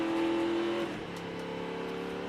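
NASCAR Craftsman Truck Series truck pulls off pit road and back onto the track, its engine a loud sustained roar that drops in pitch as it shifts and pulls away.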